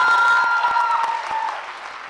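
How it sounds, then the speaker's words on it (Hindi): Audience applause at a quiz event in Jaipur, a brief burst of clapping from a crowd that fades out over two seconds. "तालियां जोरों से बजाइए"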